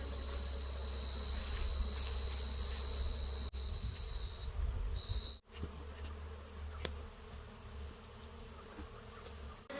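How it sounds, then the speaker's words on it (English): Swarm of honey bees buzzing around a hive, a dense continuous hum close by with individual bees passing near, steady throughout and no voices. "Then I got as many bees as I could from my swarm in here"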